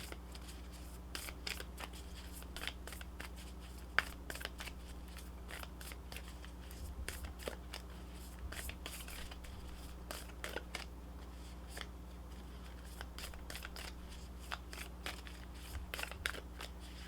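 Tarot cards shuffled and drawn from a deck during an October reading, a run of soft, quick riffling flicks and papery snaps repeating close by over a steady low hum, with no talking.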